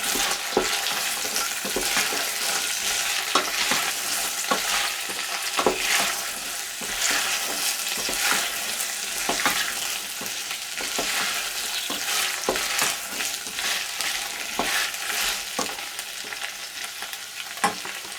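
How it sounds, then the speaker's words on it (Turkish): Fresh peas with red pepper flakes sizzle in a cooking pot and are stirred steadily, with a constant loud frying hiss broken by repeated scraping strokes of the spoon. "Şimdi bununla karıştıralım biraz."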